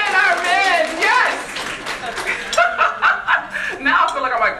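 A luncheon audience claps and laughs in a loose, uneven burst of applause mixed with chuckles and chatter, fairly close and lively throughout.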